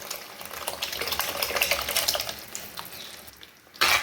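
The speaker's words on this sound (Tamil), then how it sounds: "இப்போ இதோட நம்ம புளி தண்ணியை ஊற்றிக்கலாம்." Tamarind water poured into sizzling fish curry masala in a pan for rock fish kuzhambu, a steady liquid splash and hiss lasting throughout, with a brief louder burst near the end.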